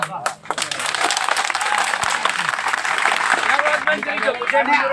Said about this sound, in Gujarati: આજ તમે આજ તાળી પાડો છો